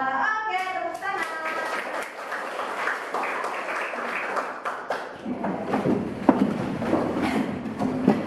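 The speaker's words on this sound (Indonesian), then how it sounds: "Oke, tepuk tangan." An Indonesian school class breaks into applause during a civics lesson. A brief voice comes first, then a rapid, uneven patter of many hands clapping continues throughout at moderate loudness.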